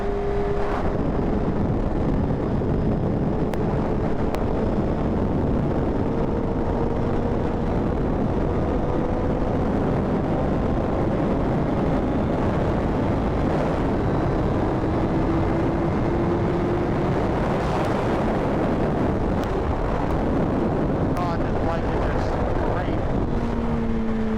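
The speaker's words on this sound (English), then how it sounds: "Enough of the crazy wind and being going super fast." Strong roaring wind noise on the microphone while riding a fast motorcycle with a freshly flashed ECU, loud and constant throughout, with engine tones rising and falling underneath and someone talking over it.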